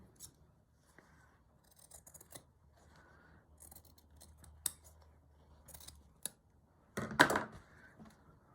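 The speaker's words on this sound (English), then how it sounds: "fabric scissors would be good." Scissors snip through fabric in a series of short, close cuts with quiet pauses between, ending in a louder burst of rustling and cutting.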